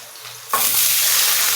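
Chicken pieces and onions frying in a pan, with a loud, close sizzle that bursts in after a quiet moment and then crackles on steadily.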